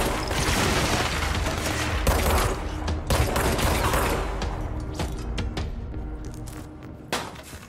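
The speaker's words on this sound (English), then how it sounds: "who just shot at me?" Gunfire rattles at the player in the video game Control, rapid bursts of shots with heavy booming impacts and mechanical clatter, loud and close, thinning out toward the end.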